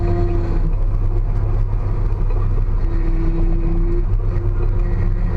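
Drift car with failing power steering, a loud, constant engine drone with a steady whine from the steering pump rising over it twice, no talk.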